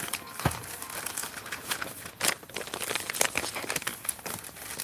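Packing tape pulled off a roll and torn while sealing cardboard boxes, a run of close crinkling, ripping strips with a few sharper tears, heard alone without talk.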